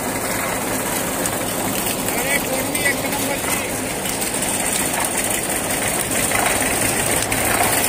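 A diesel tractor engine drives a sugarcane crusher through its shaft during jaggery-making season, giving a steady, loud mechanical drone with knocking engine rhythm throughout; a voice can be heard over it.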